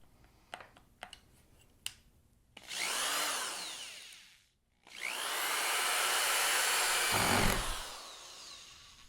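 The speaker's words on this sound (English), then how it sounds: "now I'm just simply going to drill those into place" Power drill driving screws into wood: a few sharp clicks, then two sustained whirring bursts, the second longer and ending in a heavier grinding bite as the screw seats; close and loud, no voices.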